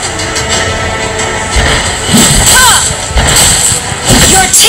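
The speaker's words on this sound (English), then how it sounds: "Team, destroy the turret!" Turret destruction in the mobile game Mobile Legends, heavy thuds and crashing booms in several bursts over busy game music and effects, with a voice speaking over the action.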